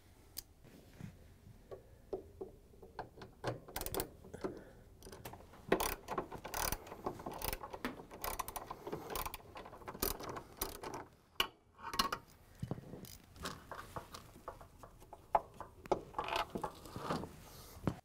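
A ratchet on a long extension working loose the rear drive motor bolt of a Frigidaire/Electrolux washer, rapid clicking pawl bursts and metallic taps at close range, irregular and fairly quiet, with no talking.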